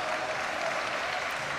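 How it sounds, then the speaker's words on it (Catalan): Spectators at a basketball game clap in a short, steady burst of dense applause that holds an even level from start to finish, with no speech on top. "i aplaudiment en este cas"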